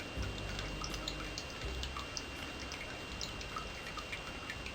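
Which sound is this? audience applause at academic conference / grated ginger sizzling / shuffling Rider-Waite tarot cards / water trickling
water trickling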